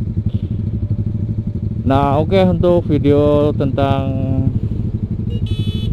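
A motorcycle fitted with a Ronin Black Katana exhaust, freshly repacked with new glasswool, revs up loudly in several close bursts, a rough throbbing note over a steady idle, while someone talks throughout.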